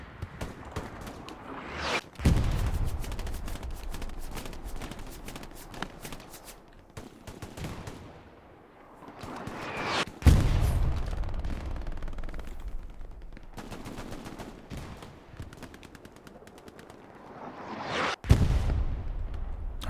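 Battlefield in the game Hell Let Loose: steady, distant machine-gun and rifle fire crackles throughout, broken by three heavy artillery booms spaced several seconds apart.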